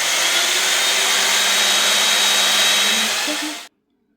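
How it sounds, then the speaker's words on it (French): An electric drill bores into a natural brick wall indoors during home redecorating, a loud steady whine and grind running unbroken for several seconds before cutting off abruptly. "il perce mes belles briques naturelles."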